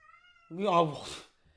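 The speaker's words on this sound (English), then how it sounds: "What are you meowing at?" A house cat gives a single loud, close meow that rises and falls in pitch. It comes right after a brief spoken word, and the room is otherwise quiet.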